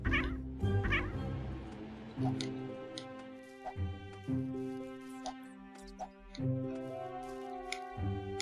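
Cartoonish cat meows and caterwauls from the video game The Purring Quest, several short cries in bursts over a steady tonal game-music backdrop with light ticking, fairly close and prominent.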